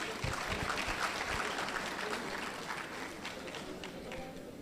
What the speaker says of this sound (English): Let's give Pojobas a round of applause.